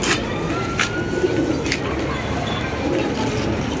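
Soft pigeon coos repeat over a steady background hum, with faint chirps and some distant voices mixed in; an expensive pet pigeon.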